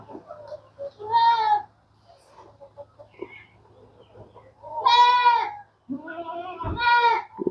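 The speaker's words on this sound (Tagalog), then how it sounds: "Kinakain na ng ating mga kambing." Goats feeding on freshly delivered fodder bleat loudly in several separate calls, with soft rustling and quiet sounds of chewing between them.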